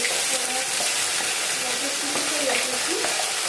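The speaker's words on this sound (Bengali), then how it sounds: "তো আমি তেলটার মধ্যে কালো জিরে ফোড়ন দিচ্ছি" Black cumin seeds temper in hot oil, giving a loud, continuous close crackle and sizzle with scattered pops and faint stirring sounds.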